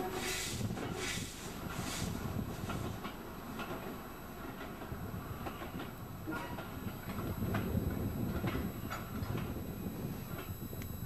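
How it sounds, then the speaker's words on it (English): A train rumbles and clatters steadily while shunting through Washford station, with wheel noise and faint metallic squeals over a long, continuous drone. "just in time to see a bit more shunting going on"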